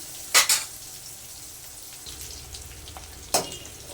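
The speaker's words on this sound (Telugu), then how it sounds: "ఈలోపు ఈ ఆనియన్ కూడా వేగిపోతుంది" Onion frying in a pan, a soft continuous sizzle broken by a couple of sharp clinks of a utensil against the pan near the start and one more toward the end, close by with no talk.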